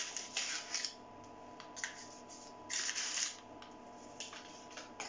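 Flour being stirred with baking powder in a bowl, soft irregular scraping and rustling bursts of the spoon working through the dry mix, close and quiet with short pauses between strokes.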